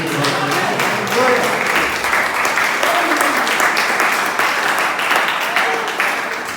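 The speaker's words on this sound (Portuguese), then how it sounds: "As palmas louvem a Deus." A church congregation claps loudly and continuously in praise during a worship service. Voices call out over the dense applause.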